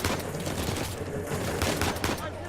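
Gunfire in the video game Uncharted 4: A Thief's End comes as dense, rapid bursts of shots packed tightly across the whole moment, loud and close.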